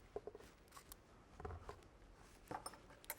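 A knife slices through the end of a cucumber in a kitchen, giving a few faint, crisp cuts and taps spread over a few seconds, close by with no talking.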